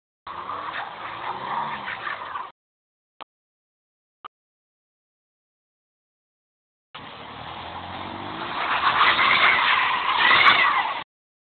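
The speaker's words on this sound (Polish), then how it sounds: "Chłopak się nie nauczył jeździć, a już driftuje." A car on new winter tyres, driven by a learner, drifts sideways with long, harsh tyre skids. One burst is followed by a silent gap with two tiny clicks, then a longer skid grows louder before cutting off.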